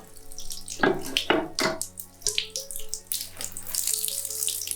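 Water runs from an old tap in an abandoned castle, a steady gush that keeps flowing with a few louder surges and splashes, heard up close with no talking.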